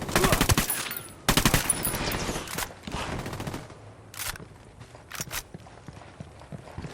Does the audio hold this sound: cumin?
no